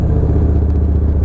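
A 2011 Victory Hammer S motorcycle with open exhaust gives a loud, close, throaty engine rumble with a steady low pulsing throb during a brief burst of acceleration.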